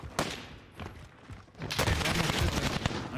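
Gunfire from a Call of Duty match, with scattered shots early and a dense burst of rapid fire in the second half, loud and close.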